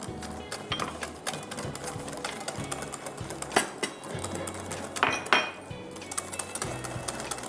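Mashed bananas, five of them, being lightly mixed into batter in a bowl, with a utensil clinking and scraping against the bowl in quick, irregular strokes and a few louder knocks, close up.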